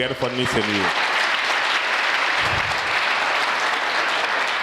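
Loud, sustained applause from a church congregation fills the space for several seconds, following a brief spoken voice at the very start.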